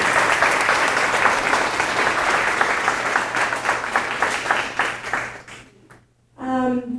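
Audience applause at an autism research talk, a dense wash of clapping that holds steady for several seconds, then cuts out abruptly before a voice speaks near the end.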